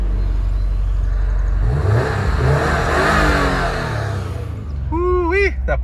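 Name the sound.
2019 Subaru WRX STI starting up, performance exhaust revving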